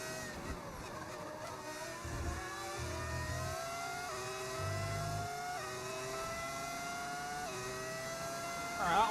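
A modded racing car engine in an F1 video game, a BMW F1 car, revs steadily with rising and falling pitch sweeps through gear changes, a continuous moderate drone under occasional low background sounds.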